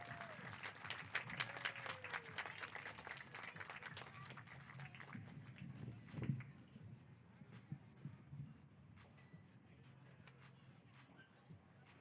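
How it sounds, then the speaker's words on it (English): Crowd applause and clapping at a high school baseball game, dense rapid claps in the first half thinning into scattered claps and cheering over open outdoor ambience. "can we get a big round of applause for our class of 2025?"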